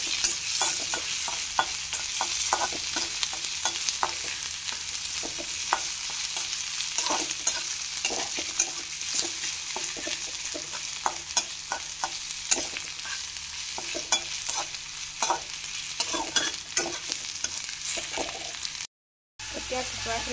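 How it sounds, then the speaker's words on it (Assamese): Ginger garlic paste sizzles steadily in a pan for an Assamese dish, a continuous close frying hiss with frequent stirring scrapes and clicks, broken by a brief dropout near the end. "এনেদৰে অলপ ভাজি ল'ব লাগিব"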